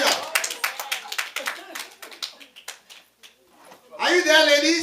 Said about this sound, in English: Clap to yourselves, ladies.